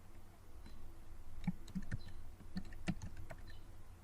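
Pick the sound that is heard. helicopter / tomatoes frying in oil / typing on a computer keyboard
typing on a computer keyboard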